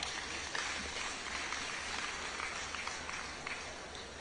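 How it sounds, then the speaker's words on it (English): Graduates at a skills acquisition program graduation ceremony clap for themselves, a faint, distant, rain-like patter of many hands that stays even and steady throughout. "Yes, you can clap for yourself."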